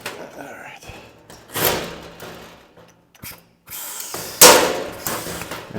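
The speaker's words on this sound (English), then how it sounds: "So again, I'll just huck the top and I'll have to figure out how to do the buck rivets along the side." Huck rivets are pulled into the skin of a Peterbilt 359 truck in sharp, loud bursts from a pneumatic rivet gun, separated by quieter pauses.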